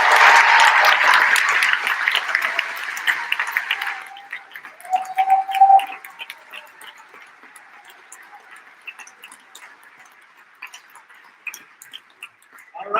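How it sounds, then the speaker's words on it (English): Applause from family, friends and faculty at a university convocation ceremony, loud and dense at first, then thinning after about four seconds into scattered, sparse claps that fade toward the end. "give them one more round of applause"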